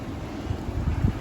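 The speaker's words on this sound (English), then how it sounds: "It's really windy" Strong wind buffets a garden where a hedgerow is being planted, giving a continuous low rumble with gusty swells that build toward the end, with no voices.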